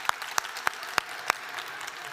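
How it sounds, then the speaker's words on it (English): A few scattered, distinct claps at a Somali Week Festival launch event for the volunteers, five sharp hand claps spaced about a third of a second apart over a quiet room murmur. "Please give them a round of applause."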